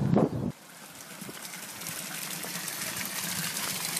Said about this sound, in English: out of this very unprepossessing iron pipe pours an extremely fine water